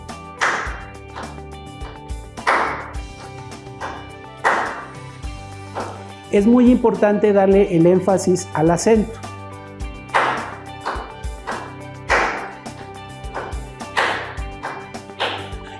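A child claps out the syllables of the word México: crisp single hand claps in short evenly spaced groups, with an adult speaking between them.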